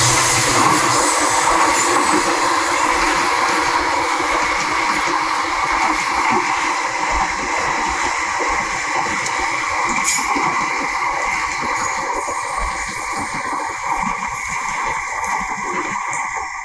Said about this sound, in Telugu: ఇక రైట్ సైడ్ వచ్చేసి MMTS ట్రైన్ వస్తుంది.